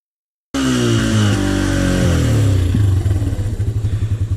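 Honda TRX 125 ATV engine fires up on electric start after a brief silence, then settles into a loud, close, chugging idle with a steady pulsing rhythm.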